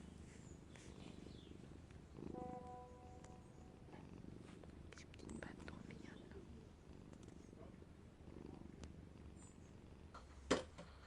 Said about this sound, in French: Qui ronronne.